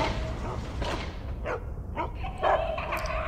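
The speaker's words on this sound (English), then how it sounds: "If you see any dogs like these, be careful." Dogs bark and yip in the video game Geist, several short sharp barks in an irregular series over a low background hum.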